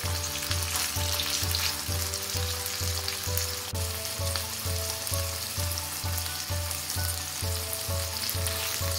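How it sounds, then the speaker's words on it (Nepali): Chicken pieces for Nepali chicken choila fry in a pan with a steady, dense sizzle that runs unbroken and fairly loud, with a faint rhythmic pulse throughout and no voices. "अब यो चिकनलाई केही बेर हामीले फ्राई गर्नुपर्छ। यसलाई चलाउँदै दुवैतर्फबाट फ्राई गर्नुपर्छ।"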